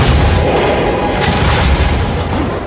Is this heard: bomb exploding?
yes